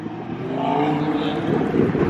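A twin-turbo car, likely an Audi R8, revs at a car meet, a rising engine roar building over two seconds with wind noise on the microphone and no clear talk.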